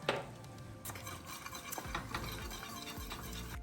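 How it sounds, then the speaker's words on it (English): A creamy sauce seasoned with parsley and pepper is whisked briskly, producing rapid swishing with light metallic clinks against the pan. "We're gonna whisk that up."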